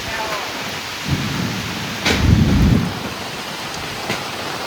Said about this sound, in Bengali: তাকালে বোঝা যাচ্ছে কেমন পরিমাণে ঝড় বৃষ্টি হচ্ছে।